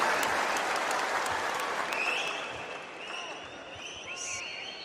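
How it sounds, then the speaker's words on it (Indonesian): Audience applause at a PDI Perjuangan political gathering for presidential candidate Ganjar, dense clapping from a large crowd, loud at first then easing slightly, with a few faint cheers. "Tepuk tangan dulu dong untuk Mas Ganjar, Capres calon Presiden PDI Perjuangan."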